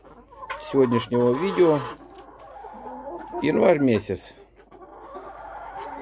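Broody Orpington hens cluck loudly close by in two strong bursts of drawn-out, wavering calls, with quieter clucking between them while someone talks in Russian.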